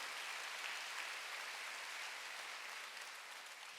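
A church congregation claps together during a Wednesday service, a dense, even wash of applause that holds steady and fades only slightly, heard from within the room with no talk.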